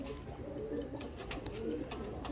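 Andhra Lambadi pigeons cooing in a loft, soft low throaty coos repeating steadily over a continuous murmur of birds, with a few faint sharp clicks scattered through.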